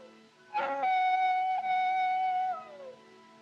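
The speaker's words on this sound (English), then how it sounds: "Them coyotes give me the creeps." A single long, wavering high-pitched coyote howl rises and holds steady for a couple of seconds, then slides downward and fades, heard alone.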